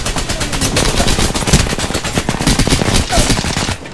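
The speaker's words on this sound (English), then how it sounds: "I'm just gonna sit up here and fire 40 bullets and enjoy life for a while." Dense automatic gunfire from the video game Apex Legends, with about forty rounds fired in a steady, loud stream of rapid shots that runs almost without pause.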